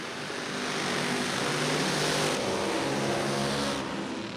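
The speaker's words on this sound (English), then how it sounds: "Aeroflow Outlaw Nitro Funny Car burnouts, they always sound sick." An Aeroflow Outlaw nitro funny car does a burnout at Willowbank Raceway drag strip, a loud, continuous, thundering roar with tyre noise that holds steady, swells slightly midway, then eases a little.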